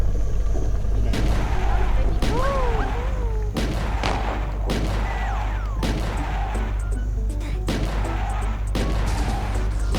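Gunfire in a Roblox game comes as a series of sharp, evenly spaced bangs over a steady low game drone. Players talk and chatter in between.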